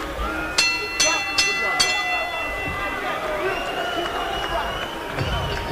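Boxing arena crowd during the heavyweight bout between David Tua and Cisse Salif gives a steady murmur and roar, with a few sharp thumps early on and a commentator talking over it.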